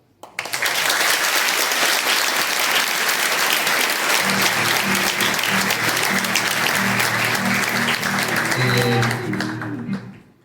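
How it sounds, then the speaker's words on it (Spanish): Sustained audience applause fills a Malvinas veterans' remembrance ceremony, steady and loud for about ten seconds, with a low hum or musical tones entering partway and a voice starting near the end. "Un aplauso"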